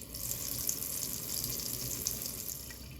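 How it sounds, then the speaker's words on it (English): Water runs steadily from a surgical scrub sink faucet switched on by knee or foot control, a continuous broadband hiss close to the microphone with no speech. "turn the faucet on using knee or foot control"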